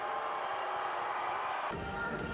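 A volleyball arena crowd roars and cheers in a steady, loud wash of noise during a tense match point against UConn.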